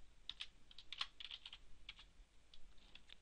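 Computer keyboard keys pressed in quick, irregular bursts of clicks, close and fairly quiet, while editing Minecraft server plugin permission settings, with no talking.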